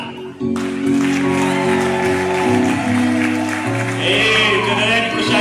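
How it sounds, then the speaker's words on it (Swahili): An audience at an event keeps applauding and cheering in a steady, continuous roar of clapping and crowd voices, heard under a voice over amplified sound. "Tuendelee kushangilia wapendwa"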